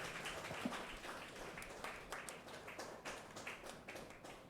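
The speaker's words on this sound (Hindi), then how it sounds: "जोर से ताली बजाओ भाई।" A church congregation at a Hindi-language Christian service claps together: a steady, dense patter of many hands that continues throughout, fairly faint and distant, with no pause.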